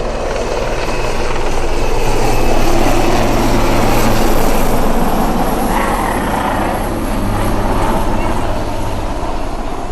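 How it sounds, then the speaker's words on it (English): Helicopter flying low over a harbor in Halifax, Canada, its loud, steady rotor thrum and engine roar filling the whole stretch and swelling slightly as it passes, with no talking. "It's a helicopter over there."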